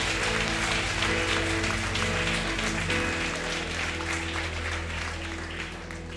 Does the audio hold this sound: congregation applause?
yes